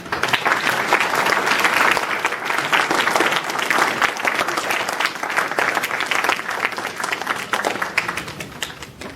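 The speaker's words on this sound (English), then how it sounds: "let us together applaud this outstanding young man and recognize this tremendous accomplishment" A memorial service audience claps in sustained, even applause for an honored young man, with many hands blending into a thick, continuous patter for the full stretch.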